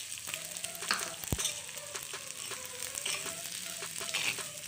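Chopped onions and green chilies sizzle steadily in a frying pan for prawn potli, with a continuous close frying crackle and occasional stirring scrapes and taps.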